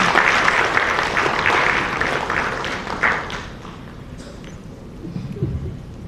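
Audience applause following the end of a speech at an international development event, dense clapping that gradually thins and fades out toward the end.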